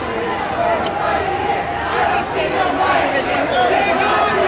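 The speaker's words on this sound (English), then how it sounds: "There's a large crowd." Large crowd at a Seattle street protest march where police push people back with bicycles, a constant close roar of voices, chatter and shouting with no pauses.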